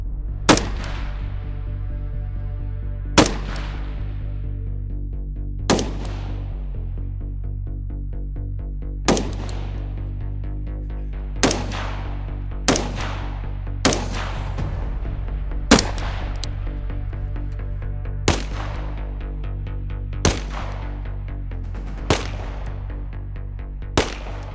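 Single pistol shots fired at targets from about five yards, each one sharp and loud and ringing out, spaced a few seconds apart over a steady low background hum, with no talk.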